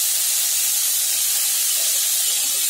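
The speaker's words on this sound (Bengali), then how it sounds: "এবার আমি কেটে রাখা এই আলুগুলো যে কেটে রেখেছিলাম এই আলুগুলো দিয়ে দিচ্ছি" Cut potatoes tipped into hot oil in a pan, giving a steady, loud broadband sizzle and hiss that holds constant throughout with no talking.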